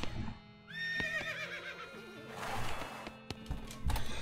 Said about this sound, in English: You sure you want to name your horse Tifa?